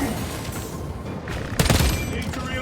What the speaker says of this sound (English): Throw your frag grenade!